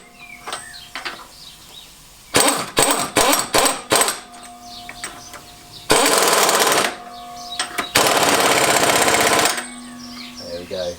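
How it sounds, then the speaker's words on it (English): A hammer taps a bent washer on the crank pulley of a classic Fiat 500 engine during a rebuild: a quick series of close, sharp metallic strikes, followed by longer bursts of harsh noise. "a little bit of manipulation with a hammer"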